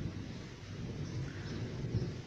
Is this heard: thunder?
yes